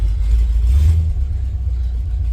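A car's engine rumbles and revs loudly up close as the car pulls away on its first drive after a used Holley Sniper fuel injection install, a steady low drone that rises briefly.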